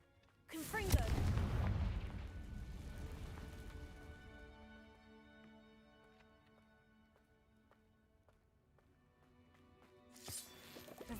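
The Confringo spell in the video game Hogwarts Legacy fires off as a sudden loud blast, followed by a long ringing, shimmering decay and a smaller burst near the end.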